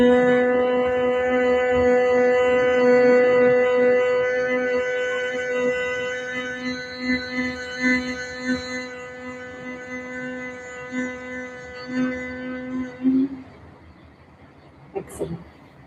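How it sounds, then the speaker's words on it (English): People hum together with lips closed on a long exhale, holding one steady low tone for about thirteen seconds before it fades into breathing and small shuffling sounds. "we're just going to keep our lips together and do a humming sound"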